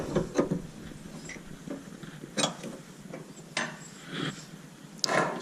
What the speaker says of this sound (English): tighten up the back nut again